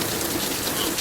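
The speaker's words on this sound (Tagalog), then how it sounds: "puro ulan na. Tapos na yung hail." Steady rain falls after a hailstorm in Edmonton, a dense, even hiss of drops on surfaces with no breaks, close and moderately loud.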